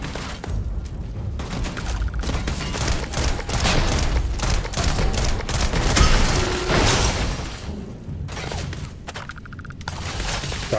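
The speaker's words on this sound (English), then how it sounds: "Shotgun is very effective." Shotgun blasts and other gunfire in a shooter game, loud and continuous, with repeated heavy shots, booming impacts and crashing debris layered throughout, barely easing near the end.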